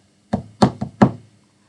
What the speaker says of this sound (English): Soon there came another knock on the door.